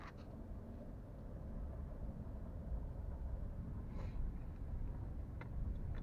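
A Dodge car drives slowly around the block with its temperature climbing, a steady low engine rumble and road noise holding throughout at moderate level, with no talk.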